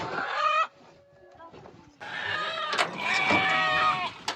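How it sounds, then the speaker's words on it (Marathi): Chickens cluck and call in short harmonic bursts during the bustle before a village fair, heard close and fairly loud, with people talking around them. "कोंबड कोकतच येते"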